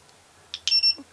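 A ViFly Beacon drone beacon gives one short, high, piercing beep after a couple of faint clicks, close and loud in a quiet room.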